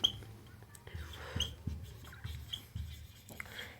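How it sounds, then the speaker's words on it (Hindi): Quiet scratchy strokes of writing an example on a board during an English grammar lesson, a series of short marker or chalk scrapes close by with faint background noise. "यहां मैं एग्जांपल लिखता हूं"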